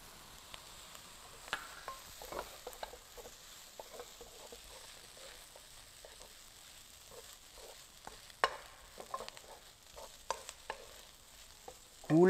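Nasi goreng kampung stirred and fried in a wok, with soft sizzling and scattered scraping and clinking strokes of a utensil against the pan, fairly quiet and steady, with a louder scrape near the end.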